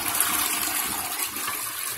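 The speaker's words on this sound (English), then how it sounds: "So, and then give it a flush." A toilet flushes after being unclogged with a plunger, a steady rushing of water throughout, close and fairly loud, with no talking.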